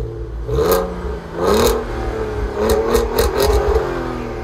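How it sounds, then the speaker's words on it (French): A naturally aspirated 3.2-litre VR6 engine in an Audi TT Mk2 revs up in several loud surges, the growl rising and falling with a throaty, mechanical tone close by. "ce moteur-là, ils sont reconnus pour leur sonorité"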